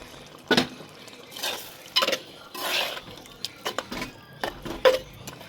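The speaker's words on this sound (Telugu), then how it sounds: "ఈ ఆకుకూరలో ఇది బాగా మిక్స్ అయ్యేటట్టు కలుపుకోండి." A utensil scrapes and clanks against a pot of gongura greens curry in irregular strokes, with soft sizzling underneath, close by.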